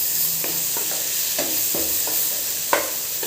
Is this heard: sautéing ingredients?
yes